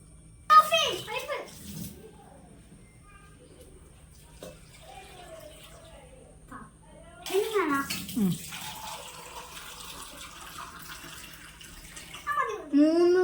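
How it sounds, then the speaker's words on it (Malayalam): Water poured into a cooking pot of tapioca seasoned with salt and turmeric, set to cook in a pressure cooker; a steady splashing pour runs for several seconds amid softer kitchen clatter, with brief voices at moments. "വെള്ളം കൂടെ ഒഴിച്ച് നമുക്ക് വേവിക്കാൻ വെക്കാൻ"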